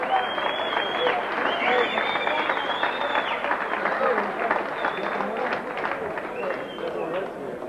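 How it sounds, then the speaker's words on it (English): Crowd applause at a boxing fight result for a gallant boxer from Western Australia, sustained dense clapping with whistles and cheers, loud and continuous throughout. "a big round of applause for a very gallant Oliver Olsen from Western Australia"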